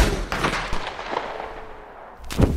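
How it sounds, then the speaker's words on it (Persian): Two sharp gunshots fired indoors in the video game Red Dead Redemption 2, one near the start and one louder near the end, with a ringing, reverberant tail between them. "صدای شلیکتون کامل متفاوت‌تر از زمانیه که توی محیط باز شلیک میکنید"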